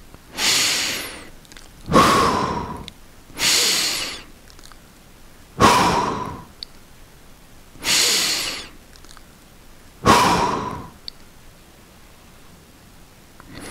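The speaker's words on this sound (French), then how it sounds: "3 respirations plus toniques." Six strong tonic breaths in a sophrology relaxation exercise, each a loud, close, forceful rush of air in an irregular rhythm, separated by short quiet pauses.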